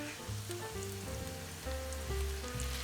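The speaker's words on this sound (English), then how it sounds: "Now we're gonna add some white wine, a little Chardonnay here." Chardonnay white wine poured into hot butter while making stuffed salmon, a dense crackling sizzle like rain on a hot surface, with faint background tones, steady and moderately loud without voices.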